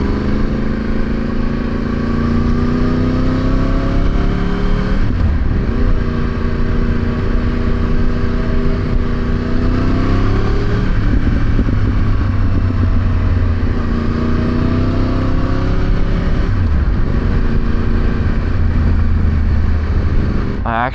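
A Yamaha R1 sportbike ridden on cold, dry streets at -1°C: a loud engine note climbs and drops through several gear changes, then revs up again. The wind rush is continuous.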